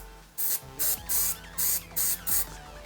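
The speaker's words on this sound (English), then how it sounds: "I just spray that down and then scrub it with the toothbrush" Magnum Force electric motor cleaner, an aerosol for RC cars and trucks, sprayed onto Super Famicom Jr console parts in six short, loud hissing bursts at an even rhythm, close up with no talking.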